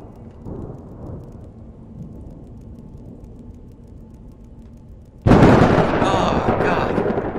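Thunder in the horror video game Flicker of Hope starts as a low rumble under a quiet background, then breaks into a sudden loud, sustained broadband crash that lasts for about two seconds.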